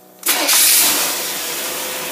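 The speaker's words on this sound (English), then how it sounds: "the engine started up" A car engine cranks and catches at once, settling into a steady, fairly loud idle that holds to the end with no talking.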